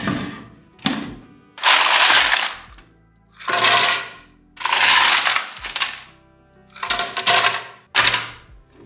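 Ice cubes crash and grind in a blender in loud, repeated bursts of crushing, each a second or so long, separated by short pauses as about two cups of ice go in for a protein shake.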